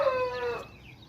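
A pure Indonesian black tongue breeder rooster lets out a short, loud crow close by that fades into quiet within about a second.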